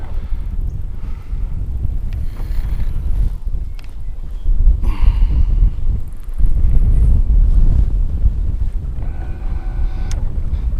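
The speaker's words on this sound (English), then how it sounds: "Starting to get windy out here." Wind gusts buffet the microphone on a fishing boat out on open water, a steady low rumble that swells and eases in waves, with faint water and hull sounds underneath.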